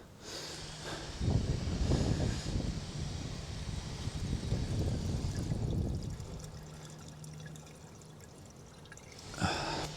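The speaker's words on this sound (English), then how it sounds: "I'm just going to pour a bit of water into the flue" Water poured into a boiler flue, draining out through the condensate pipe, makes a noisy splashing gush for several seconds that tails off into a quieter trickle and hiss.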